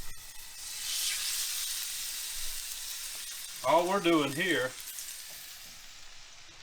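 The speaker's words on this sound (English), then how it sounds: "So you can hear that sizzle." Meat fries in hot olive oil with a steady sizzle, a hiss running throughout, with a brief stretch of talk near the middle.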